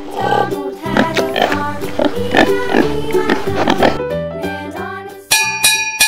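A farm pig oinks in a steady run of loud, close grunts, followed at the end by a bright tinkling jingle.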